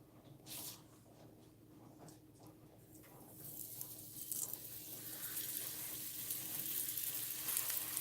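Flour-coated pork chops sizzling in a skillet of hog jowl bacon grease, a faint hiss that swells steadily louder and brighter over several seconds, no talk.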